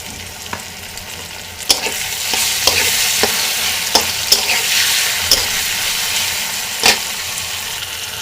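Hot chili spice paste with salt and turmeric fries in a pan, a soft continuous sizzle broken by irregular scraping clicks of a spoon stirring against the metal, close and without voices.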